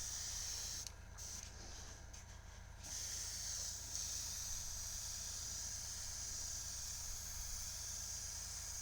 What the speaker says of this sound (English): I'm really pulling back on the trigger, I'm letting all of the primer out